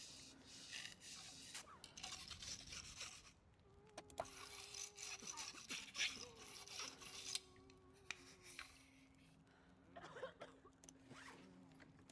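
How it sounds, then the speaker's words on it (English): A gun being scrubbed clean in the survival video game The Long Dark, with repeated rasping, zipper-like rubbing strokes at close range and a faint tonal hum underneath. "You just give it a good old scrubbing."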